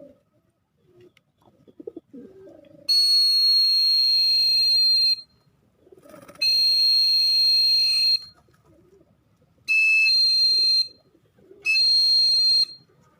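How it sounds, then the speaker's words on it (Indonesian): A shrill, steady whistle calling an animal colony sounds in four long blasts with short pauses between, preceded by faint rustling and low background noise. "Saya biasa memanggil untuk koloni itu menggunakan peluit ini."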